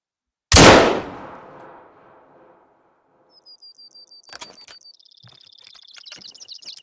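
A single loud rifle shot in a hunting video game cracks sharply and rings off into a long fading tail, followed by faint chirping birdsong and light clicks.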